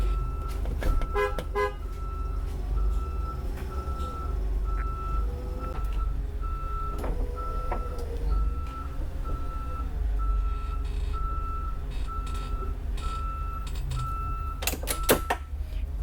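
A bus reversing in a straight line, its backup alarm sounding a steady, evenly spaced series of beeps over the idling engine, with a few clicks and knocks near the start and end.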